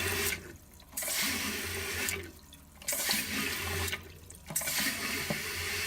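Water rushes steadily into a toilet tank as it refills, the flow surging and easing in regular waves.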